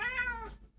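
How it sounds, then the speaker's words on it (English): A cat gives a single short meow, close and clear, fading out within a second. "My cat's joining everybody, so if you hear the meows in the background"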